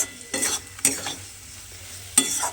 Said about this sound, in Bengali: এইভাবে আমাকে কিন্তু বেশ কিছুক্ষণ এইভাবে একটু নেড়ে নেড়ে রান্না করে নিতে হবে